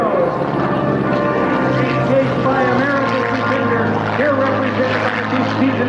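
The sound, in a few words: P-51 Mustang aircraft flying past at airshow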